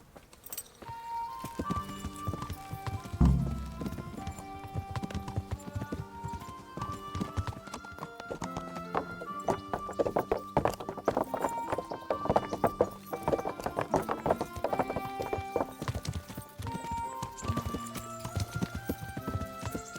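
Horse hooves clip-clopping at a steady gait while riding in the medieval video game Kingdom Come: Deliverance, the rhythmic beats sitting under a busy orchestral music score throughout, with a brief whinny near the start.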